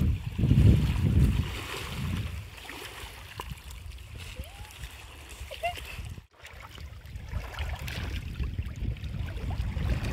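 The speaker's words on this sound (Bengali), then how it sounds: "এই জলের আওয়াজটা কি সুন্দর" Lake water at Mukutmonipur, soft lapping waves and splashes with wind rushing over them, steady and fairly close, as people chat over it and a brief dropout cuts in midway.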